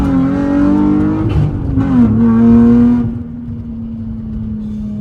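A Nissan 350Z drives close by, its engine note climbing in pitch and then settling into a steady, even hum as it cruises.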